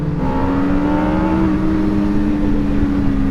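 An MV Agusta motorcycle engine held at high revs, a loud, continuous tonal whine that dips slightly and sustains close up throughout.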